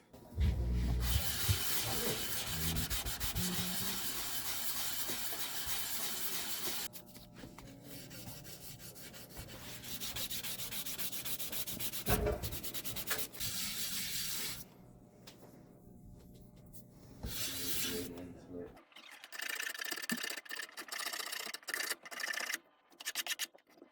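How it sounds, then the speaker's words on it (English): Sandpaper rubs steadily back and forth over the headstock of a 1966 Thunderbird non-reverse guitar during repair, close scratchy strokes that grow shorter and more broken near the end. "We'll sand it back and we'll respray it."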